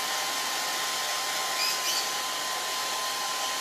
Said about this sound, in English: Blow dryer mania going on.